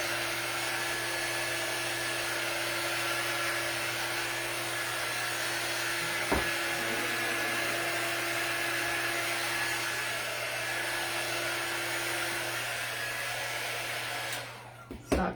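A hair dryer blows steadily to dry craft paint on a plastic plate, a constant close whir with a steady hum that continues for the whole stretch before cutting off near the end.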